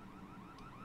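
An alarm sounds in an abandoned wasteland city in the video game 7 Days to Die, a faint, steady wavering wail heard from a distance.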